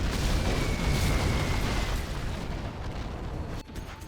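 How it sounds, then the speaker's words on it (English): Carpet bomb explosions in Command & Conquer Generals, a loud rolling rumble of overlapping blasts that tapers off, followed by a sharp crack near the end. "carpet bomb coming in for Fargo"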